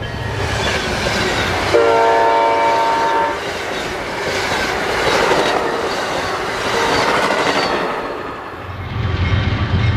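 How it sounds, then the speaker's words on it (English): The northbound Amtrak Silver Star passenger train rumbles past nearby heading into Tampa, Florida, with a short horn blast early on, then steady rolling clatter of wheels over the rails. "Next train was PO92, the northbound Silver Star from Miami to New York, heading into Tampa."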